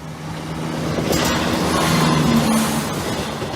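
A train rumbles past steadily, with a droning hum and faint metallic squeals rising over the steady roar.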